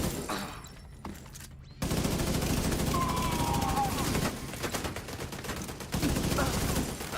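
In The Division video game, a deployed turret fires dense, rapid bursts that rattle almost without pause. Other game combat noise is mixed in, and the firing swells louder in waves.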